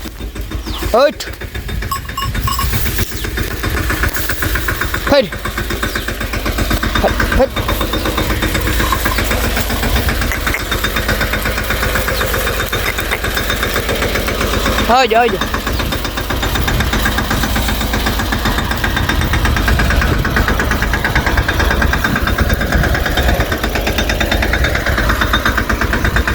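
A tractor engine chugs steadily at idle throughout, loud and close, with a person calling out short sounds over it.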